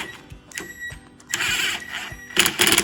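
A screwdriver tightens a metal hose clamp band, giving short bursts of sharp clicking and ratcheting with brief pauses between turns, close up.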